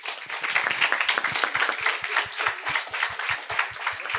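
Rhythmic group clapping at a youth parliament session, a steady, even beat of many hands clapping in unison, close and continuous throughout.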